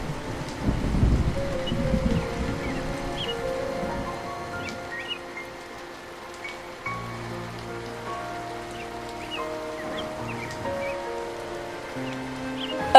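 Cartoon rain falls on farm fields in a soft, steady patter that carries on throughout, joined by sustained tonal music and faint chirps.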